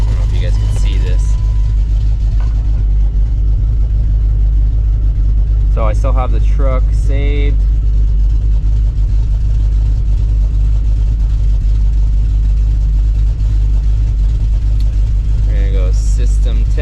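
A cammed Dodge Dakota R/T engine with an exhaust leak idles nearby in a loud, steady low rumble with a lumpy throb, while someone talks briefly over it at a few points.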